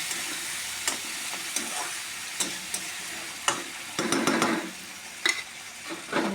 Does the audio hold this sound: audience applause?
no